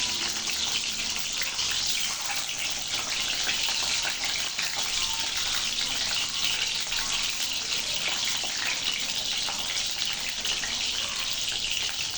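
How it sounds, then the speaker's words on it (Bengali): Eggs fry in hot oil for a Bengali egg bhuna, giving a loud, continuous, crackling sizzle that holds evenly throughout without any talking. "তেলটা গরম হয়ে গেলে আমি ডিম ভেজে নেব।"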